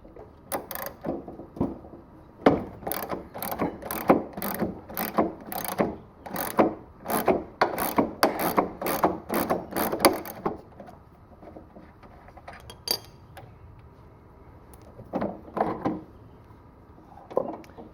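Gears inside a worn Brute lawnmower wheel are turned by hand, giving a quick series of close ratcheting clicks and rattles that bunch up, then fade to a few scattered clicks near the end, with no talk.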